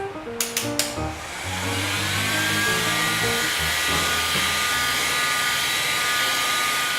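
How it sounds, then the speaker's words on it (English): A heat gun runs at about 200 degrees Celsius to heat a printed decal. After a few brief clicks it starts up, then a steady, loud blowing whine with a faint high tone holds close by, with no talking. "We're going to use a heat gun instead here"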